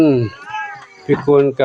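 A hoarse cat at a temple in Chae Hom, Lampang, Thailand gives one loud, close, drawn-out falling meow, followed by someone talking.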